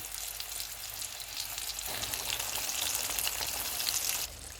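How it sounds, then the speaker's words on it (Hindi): Chicken fries in hot oil on low heat, a steady close hiss of bubbling and crackling that grows a little denser before dropping back slightly near the end. "ऑयल अब गर्म हो गया। इसको हम कम आंच पे फ्राई करेंगे"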